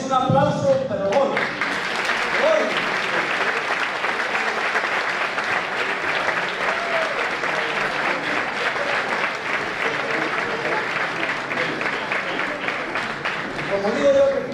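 An audience at a gathering of Asturian Christmas music breaks into sustained, dense clapping that fills the room for several seconds, with a voice speaking briefly at the start and end.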